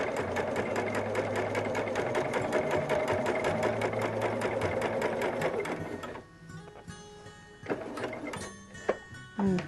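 A sewing machine stitching a quilt seam for flying geese blocks with a regular short stitch, a fast steady rhythmic chatter for about six seconds that then stops, followed by quieter clicks and handling noises.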